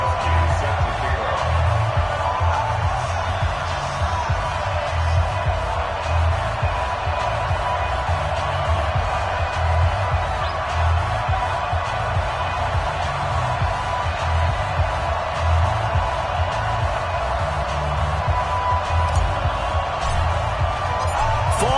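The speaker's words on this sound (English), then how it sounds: "This crowd is ready as their guys get set to match up between the Jacksonville Jaguars and the Denver Broncos." Stadium crowd in an NFL football video game, Jacksonville Jaguars vs Denver Broncos, produces a constant steady roar of crowd noise with faint cheering, sustained and fairly loud throughout.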